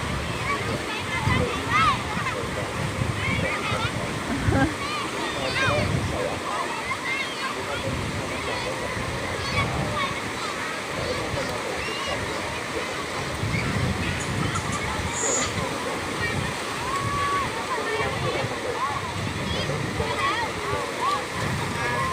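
Sea waves roll in and break along a beach, the surf giving a continuous roar with repeated surges rising and falling, while people talk over it.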